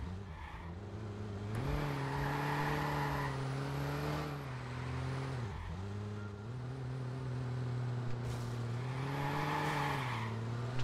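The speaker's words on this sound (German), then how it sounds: "Also das Auto hört sich irgendwie komisch an." A video game car's steady engine drone with shifting pitch, rising and falling as it revs, continuous throughout with no talking.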